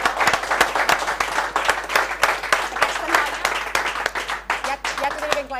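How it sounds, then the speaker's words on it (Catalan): A crowd applauds a woman named Laia, dense, steady clapping that runs throughout, with voices talking over and among the claps. "Un aplaudiment per la Laia."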